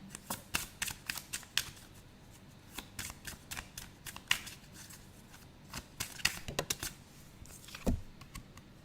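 Cards from a moon oracle deck are handled and shuffled, producing a quick series of close, crisp flicks and taps in irregular bursts, with one heavier thump near the end.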